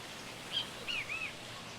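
Jungle birds give three short, thin chirps in quick succession, faint and somewhat distant over a soft, steady hiss of ambient jungle background.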